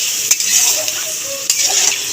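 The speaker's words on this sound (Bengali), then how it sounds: "একটু নেড়ে মিশিয়ে নেবে।" Spiced potato curry for Bengali niramish aloo dum being stirred in a pan after spice-rinsing water is added, a close bubbling sizzle with a couple of sharp spoon knocks against the pan.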